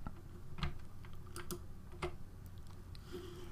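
A few faint, sparse clicks from a computer key press and mouse button on a Mac or PC while working in Photoshop Elements, spaced apart over a quiet background hiss.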